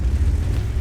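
Tank destroyer cannon shot in a tank battle video game, a single heavy low boom with a rumbling tail, loud and close, no talk over it.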